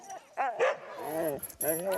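Sled dogs barking and yipping in a kennel yard as the team is harnessed, sharp excited barks coming in quick bursts close by, with people talking among them.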